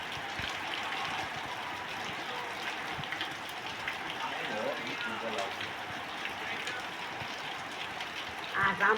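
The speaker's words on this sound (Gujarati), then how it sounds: "પાણી પાણી કરી દીધું હે ધોધમાર વરસાદ" Heavy rain pours down steadily during the late-October monsoon, making a constant broad hiss with a few watery splashes. People talk over the rain throughout.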